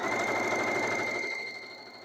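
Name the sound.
sewing machine stitching fabric neck wrap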